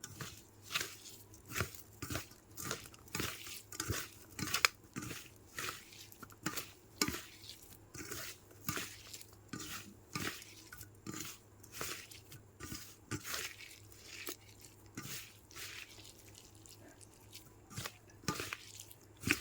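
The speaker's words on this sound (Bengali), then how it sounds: "এই দেখো সুন্দর করে মেখে নিলাম।" Puffed rice being hand-mixed with peanuts, raw green chillies and spices, a steady run of soft crunchy rustles and squishy stirring strokes close up, with no talking.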